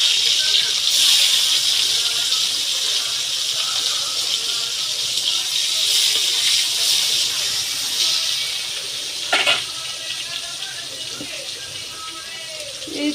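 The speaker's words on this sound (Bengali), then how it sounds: "এবার দিয়ে দিচ্ছি টমেটো কুচি" Chopped tomatoes hit a hot pan while cooking fish head and pomfret, giving a loud, steady sizzling hiss that carries on for several seconds with a few clatters along the way.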